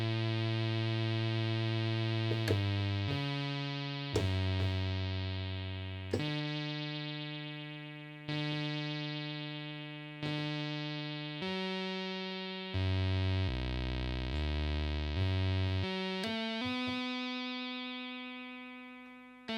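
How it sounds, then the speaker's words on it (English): Synth notes run through a Behringer 172 phaser delay set as a chorus, a sequence of bright sustained tones that step through different pitches, each decaying before the next, with a shimmering, doubled quality. "let's have a listen to that as if it was more of a chorus"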